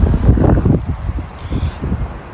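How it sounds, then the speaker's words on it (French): Wind blowing outdoors on a cold day, heard as low, gusty rumbling buffeting that swells and fades in uneven waves with no voices. "Il y a du vent, il fait froid."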